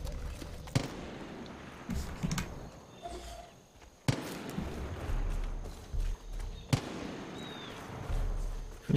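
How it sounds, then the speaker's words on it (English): A few sharp gunshot-like bangs, widely spaced and fairly loud, over a steady rumbling background in the video game Far Cry 5. "I hear gunshots."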